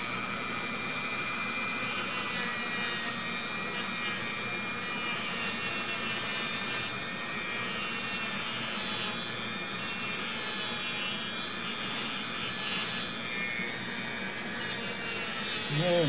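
A Mantua 0-4-0 shifter model locomotive's motor runs at its lowest speed while its wheels are buffed, giving a steady, close, high whine with some light scratchy grinding throughout.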